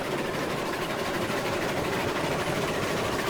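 A Climax geared steam locomotive in the Railroad Online video game runs with a dense, continuous, loud screeching roar that holds steady throughout, with no voices.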